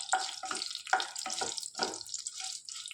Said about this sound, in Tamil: ஃப்ரை ஆக்கி இப்போ இது பொரிய ஆரம்பிச்சிடும் இந்த கடுகு பொரிய ஆரம்பித்து